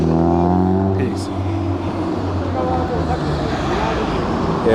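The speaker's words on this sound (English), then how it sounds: "that's an MX-8 making noise" An old, roughly 40-year-old MX-8 car engine idles and rumbles up close on a Tokyo street, a loud, continuous low drone under passing traffic, with people talking over it.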